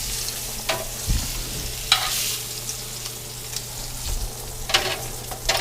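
Lamb chops sizzle steadily in a hot cast iron pan, a loud, continuous frying hiss broken by several sharp spatters and a few low clunks from moving the meat.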